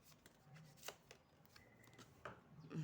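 Tarot cards being shuffled by hand, heard as a few quick, faint riffling snaps and soft taps in a quiet room.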